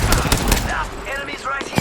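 Rapid automatic gunfire rattles in bursts during a battle-royale shooter match, close and loud at first and then thinning out, while a voice talks over it.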